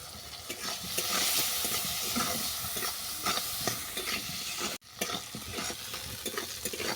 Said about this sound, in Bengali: শাপলা আর রাঙালু ভালো করে ভাজা হয়ে গেছে।